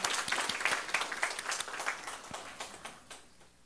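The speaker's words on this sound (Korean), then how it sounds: "우리 박수로 다시 한번 환영하겠습니다" A church congregation claps in welcome during a Sunday worship service, giving a dense burst of applause that gradually fades over a few seconds.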